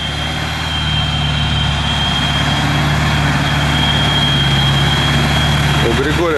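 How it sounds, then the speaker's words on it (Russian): A Soviet 6x6 off-road truck drives on rough terrain, its heavy engine droning steadily and loud up close, with voices speaking over it. "У Григория хороший движок."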